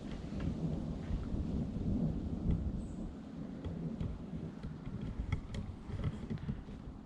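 Thunder rolls through English woods during an August wild camping trip, a deep sustained rumble close overhead with light rain pattering on the tarp and forest around it.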